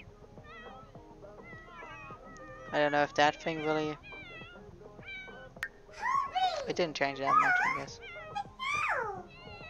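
A pet cat in The Sims 4 meows repeatedly in bursts of drawn-out, wavering cries, loud and close, mixed with someone talking.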